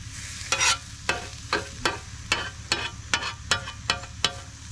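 Eggs frying on a flat top griddle at a camp breakfast, a constant low sizzle broken by a regular series of sharp spatula scrapes and taps, about ten close strokes in a steady rhythm.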